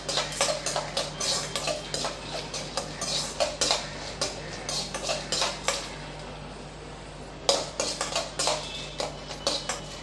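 Peanuts and dried red chillies stirred and sautéed in a pan for South Indian coconut rice, with repeated close metal spoon scrapes and clinks against the pan in a steady rhythm, briefly pausing, over a low constant hum and no talk.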